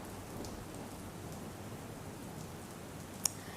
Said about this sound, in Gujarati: ખંભાળિયામાં મોડી રાત્રે વરસાદની ફરી એક વખત બેટિંગ શરૂ થઈ છે